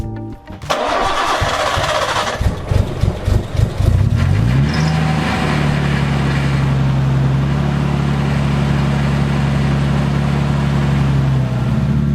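An R32 car engine cranks with rapid rhythmic chugs, catches, and settles into a steady, loud idle hum that continues to the end.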